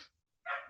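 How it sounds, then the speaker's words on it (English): Two short yelping dog barks, the first trailing off and the second louder and fuller after a brief silence, heard alone in a quiet room. "my dog's barking a little bit."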